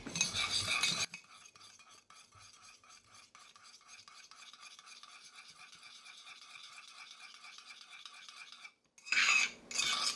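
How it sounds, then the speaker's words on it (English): Egg yolk stirred briskly in a cup for a keto chocolate chip cookie, a steady close scraping and clinking of a utensil against the cup lasting several seconds, with louder rattling bursts at the start and end. "we're putting our yolk into our cup. And we want to stir this very well."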